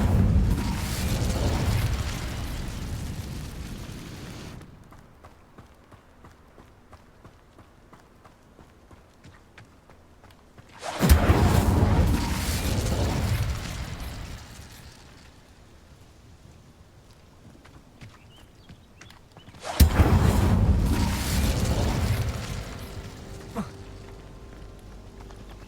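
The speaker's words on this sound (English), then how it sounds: "Incendio" An Incendio fire spell is cast in the video game Hogwarts Legacy, repeated three times: each cast bursts loud with a broad roaring whoosh that fades into quieter crackling over several seconds.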